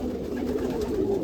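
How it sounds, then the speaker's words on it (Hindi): Gulabi khaira pigeon, a rare fighting breed, cooing in a low continuous burble close by, with no talking. "बाकी ये कबूतर भी बहुत कम देखने को मिलते हैं। गुनाबी खैरा"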